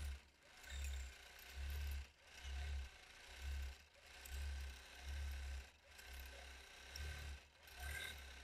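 Domestic sewing machine running in bursts during freehand quilting, fabric pulled taut over the machine arm, a low rhythmic motor hum and needle chatter pulsing roughly every second, steady and close with no talk.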